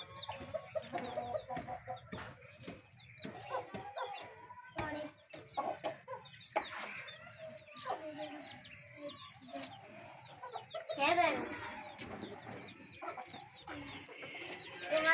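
Several Aseel chickens cluck and chatter continuously nearby on a backyard farm, with occasional louder squawks, a busy flock heard throughout.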